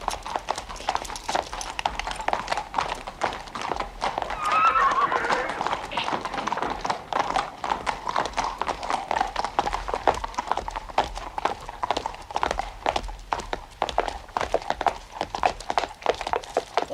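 Horse hooves clip-clop in a steady, brisk rhythm, fairly close, with people talking over the repeated clattering beats.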